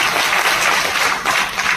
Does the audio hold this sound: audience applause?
yes